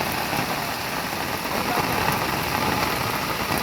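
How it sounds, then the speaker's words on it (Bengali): Steady heavy rain hisses and patters continuously, a dense wash of noise with no voices. "যে পরিমাণে বৃষ্টি নামছে যার জন্য আমরা বেশিক্ষণ থাকতে চাই না"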